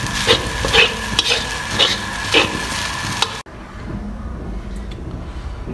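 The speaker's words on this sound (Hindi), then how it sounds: "और इसको अच्छे तरीके से मिक्स अप करेंगे। ये 2-3 मिनट आपने अच्छे तरीके से मिक्स अप करना है।" Chicken fried rice sizzles in a pan as a spatula stirs and tosses it, with rhythmic scraping strikes over steady frying, then a sudden cut to a quieter, softer sizzle, close and with no talk.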